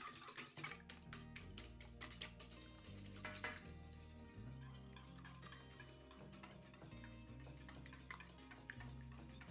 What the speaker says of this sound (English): I'm simply just going to mix my eggs up a little bit until they're just like roughly combined